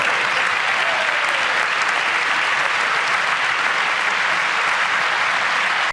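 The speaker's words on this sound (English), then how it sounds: "They are clapping for Trump." Loud, sustained applause from a large audience at a joint session speech, dense steady clapping that carries through without a break before cutting off sharply at the end.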